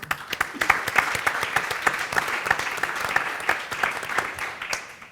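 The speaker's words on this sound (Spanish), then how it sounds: "un aplauso por lo que ha dicho y por lo que se ha contenido" Audience applause for the speakers of a round-table panel on the renewable energy transition; a fairly loud, busy patter of many hands clapping that continues steadily for about five seconds.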